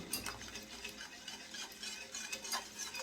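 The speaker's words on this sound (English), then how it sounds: "You just want to whisk that out" Wire whisk stirring cornmeal into boiling water with salt, nutmeg and cinnamon for Jamaican cornmeal porridge, a steady rapid scraping and ticking against the pot, close and continuous with no talk.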